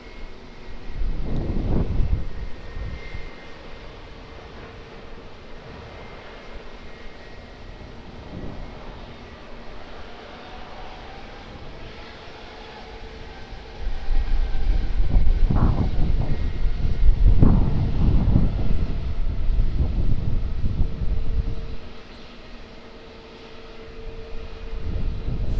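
A Qatar Airways jet at Auckland Airport gives a distant rumbling roar that swells and fades in several surges over steady wind noise, with no talking.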